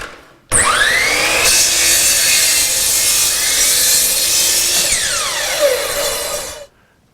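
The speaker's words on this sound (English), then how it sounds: "Then I can cut them to length with my miter saw." A miter saw cuts wood boards to length for stackable trays: a loud, close whine as the blade spins up, a steady cut through the board, then the motor winding down, with no talk.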